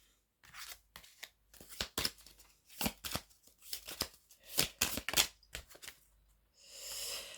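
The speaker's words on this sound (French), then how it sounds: "On va quand même tirer les cartes." Tarot cards being shuffled and drawn, a quick run of crisp, close riffling snaps and slaps in uneven bursts, ending with a softer sustained shuffle, no talking.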